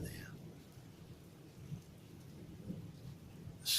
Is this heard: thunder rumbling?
yes